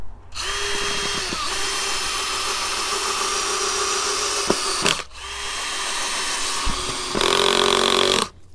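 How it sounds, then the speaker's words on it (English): Cordless drill with an adjustable clutch driving screws into hard wood while building garden steps on a slope, a close, loud sustained whine with a brief pause and a clutch click, then a second run ending in a higher strained burst. "you can just adjust this clutch, whatever you need to drive your screw to the depth that you want it to end up at"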